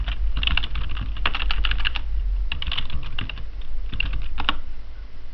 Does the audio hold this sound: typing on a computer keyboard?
yes